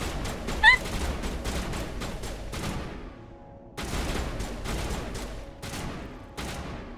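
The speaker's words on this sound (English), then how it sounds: "Guys, please stop shooting the rock." Squad gunfire in Mass Effect aimed at a rock: rapid bursts of rifle shots, loud and close, pausing briefly before resuming in repeated volleys, with a faint voice under the shooting.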